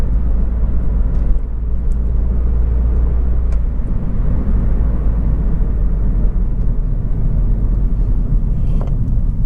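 A 1.6 MINI Cooper S three-door hatch drives along with a steady, loud low engine and road rumble filling the cabin, and only subtle shifts hint at the gear changes.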